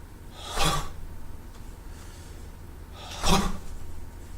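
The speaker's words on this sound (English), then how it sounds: "if you let out a big exhale with it" Two big exhales, each a short breathy whoosh with a dull thud as the feet drop flat onto the heels, spaced a few seconds apart over soft room noise.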